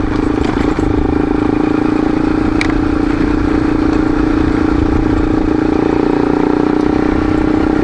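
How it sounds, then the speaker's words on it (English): A four-wheeler ATV approaches along a graded dirt forest service road, its mid-pitched engine a constant loud buzz with faint clatter, and no talking. "got ourselves another four-wheeler coming"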